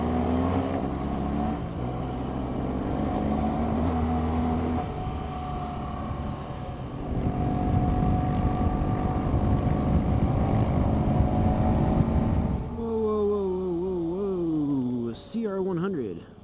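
A BMW R1200GS motorcycle riding on a highway, with a steady engine drone under wind noise that climbs in pitch as the revs rise near the end, while a voice talks over it.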